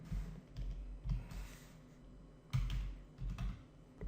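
Typing on a computer keyboard while entering a MySQL query, a short series of soft, close clicks and thumps in uneven bursts, with no voice.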